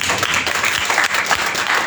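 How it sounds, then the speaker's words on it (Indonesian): A church congregation claps together in a sustained burst of applause at a Sunday worship service, loud and dense from start to finish with no pause. "Ayo kita berikan tepuk tangan."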